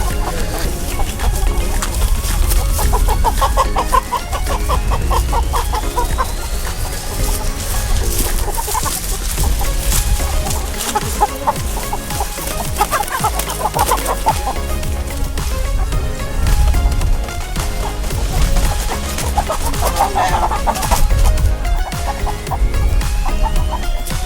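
A flock of backyard chickens waits near a simple setup for butchering about sixty birds, clucking and squawking continuously for over twenty seconds, loud and close with a steady busy chatter.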